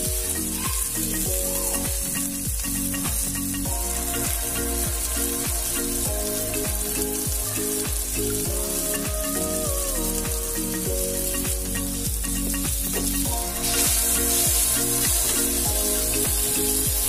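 Tomatoes sizzle while frying in a pan, a loud steady crackling hiss close up with rhythmic scraping and stirring knocks throughout.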